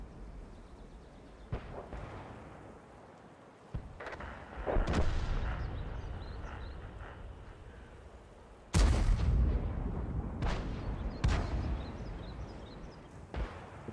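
Several heavy tank cannon blasts in World of Tanks boom out at irregular intervals, each a sharp crack followed by a rumbling tail, with low background rumble between shots.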